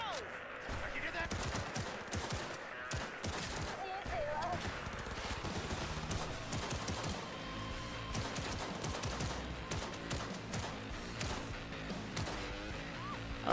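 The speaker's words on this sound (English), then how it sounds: "Wait, why are the cops shooting at me now?" Sustained gunfire in the video game Cyberpunk 2077, dense bursts of shots and automatic fire crackling throughout, with a voice talking over the chaotic firefight.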